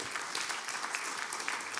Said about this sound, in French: Nous, on applaudit la police.